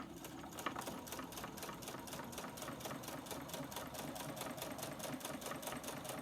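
Sewing machine stitching through the thick layers of a mini quilt at a longer stitch length, a steady even rhythm of rapid needle clatter at close range, faint and continuous.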